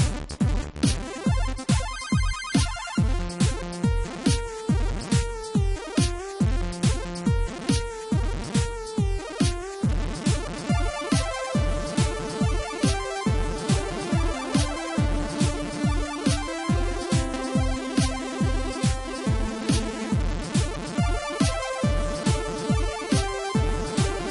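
Chiptune music programmed in FL Studio, with bright square-wave melody over a fast, punchy rhythmic beat, steady and loud throughout with no voices.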